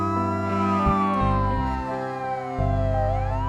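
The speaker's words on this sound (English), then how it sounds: "When you hear the loud sirens, that means our firefighters are rushing to help someone in need." Emergency vehicle sirens wail loud and close, several tones sweeping and overlapping continuously with a low engine rumble underneath, fitting fire trucks rushing to a call.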